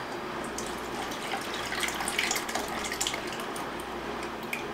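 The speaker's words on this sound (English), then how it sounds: "I am going to pour this into the strainer." Homemade milk paint poured from a container into a strainer set over a small bowl, a steady close trickle and splash of liquid lasting several seconds.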